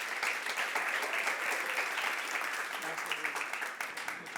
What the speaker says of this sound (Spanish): Demos un buen aplauso